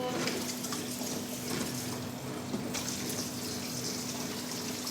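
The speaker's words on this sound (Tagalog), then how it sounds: "Maghugas na po ako ng plato." Tap water running steadily into a sink while dishes are washed after a small dinner for guests, a continuous close hiss and splash with no break.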